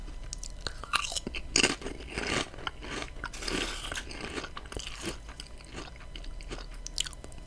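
Crunchy bacon crisps are bitten and chewed close to the microphone, with repeated crisp crackling crunches in an irregular rhythm and no talking over them.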